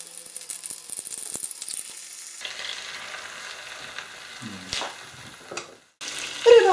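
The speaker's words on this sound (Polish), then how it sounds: "Masło rozpuszczone, a zatem wkładam rybę i będę smażyła z każdej strony" Carp sizzles as it fries in melted butter in a pan, a steady crackling hiss that rises and falls, with a few clinks and scrapes of utensils near the end.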